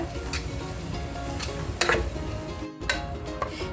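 Food frying in oil in a pan, a close continuous sizzle with a few sharp utensil clinks and scrapes and one brief drop in the crackle near the end.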